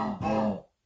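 Call of Duty zombie grunt sample played on a keyboard at a G root key: one short, low, throaty grunt of under a second with a slight hitch partway, then a clean cutoff into silence.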